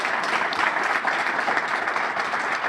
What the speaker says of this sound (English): So I want to give a big round of applause for him.